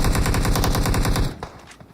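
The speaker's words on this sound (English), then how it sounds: "Trey gets Beo with the AK" Rapid automatic AK gunfire in a competitive video game match, a loud fast burst of shots that stops abruptly with a few faint trailing sounds.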